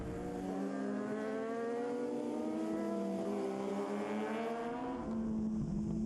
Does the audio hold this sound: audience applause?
no